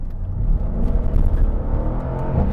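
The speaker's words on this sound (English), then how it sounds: "Let's give it a little race mode pull for you guys." A Mercedes-AMG SL63 roadster with the top down accelerates hard in race mode, heard as a loud, low, continuous engine roar with wind rumble and no talk.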